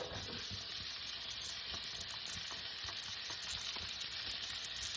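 Butter and onions sizzle in a pan for beef stroganoff, a steady close frying hiss with light scrapes of stirring throughout and no voices.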